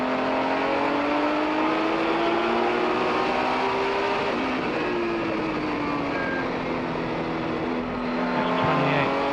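Race cars, among them a 1979 Porsche 935, roar past at speed on a track, with several overlapping engine notes rising and falling in pitch as they sweep by, loud and sustained.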